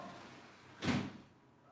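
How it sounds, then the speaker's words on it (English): A window slides shut with a single quick rumbling thud, close and moderately loud, over a faint quiet room tone. "Let me close the window real quick."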